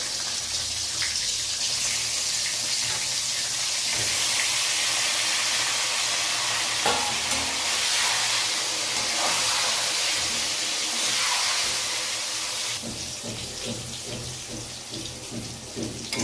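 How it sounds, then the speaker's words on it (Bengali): Eggplant pieces fry in hot oil with nigella seeds, making a steady, crackling, rain-like sizzle that continues without a break. "কালো জিরের মধ্যে এবার আমরা বেগুনগুলো ভেজে নেব।"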